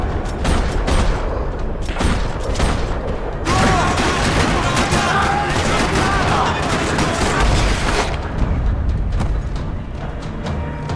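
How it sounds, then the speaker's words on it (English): Dense bursts of gunfire in the video game Max Payne 3 rattle almost nonstop in a parking lot, rapid shots and booms layered together, loud and close, with a short lull near the end. "Another parking lot rattling with gunfire."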